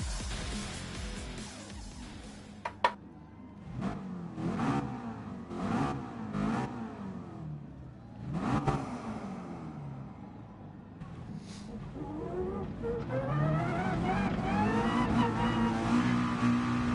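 Race cars in a Gran Turismo-style racing game launch off the line together at the start of a race, engines revving and rising in pitch in repeated surges, a dense roar of several cars close by.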